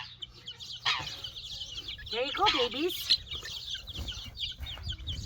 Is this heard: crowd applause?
no